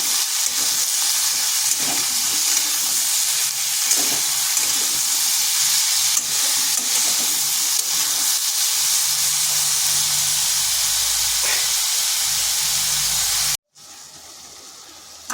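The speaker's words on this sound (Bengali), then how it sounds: "আলুর সাথে ঝিঙ্গেটাও একটু ভেজে নিলাম।" Ridge gourd and potato fry in a pan with a steady, close sizzle that holds for most of the stretch, then drops off sharply near the end. No one speaks.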